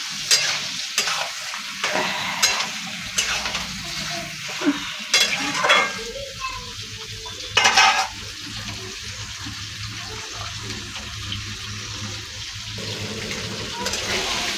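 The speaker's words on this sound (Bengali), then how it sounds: "সেই জন্য আলুটা দিয়ে কষাচ্ছি।" Meat and potatoes are stir-fried in oil in a pan, with a continuous sizzle and repeated scraping, clattering stirring strokes, occasional louder knocks, and a person speaking at times over the cooking.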